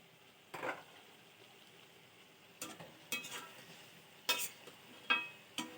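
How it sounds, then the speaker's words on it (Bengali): Ash gourd and chicken pieces frying together in a pan: a faint, low sizzle broken by several brief scraping stirs at irregular intervals. "চাল কুমড়া আর মাংসগুলো আমি একসাথে ভেজে নেব। এভাবে ভাজা হতে থাক।"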